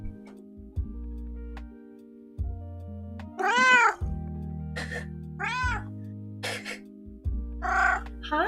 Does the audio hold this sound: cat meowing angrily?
yes